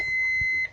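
An alarm clock emits a steady, loud electronic beep that holds for most of a second before cutting off, with faint rattling underneath.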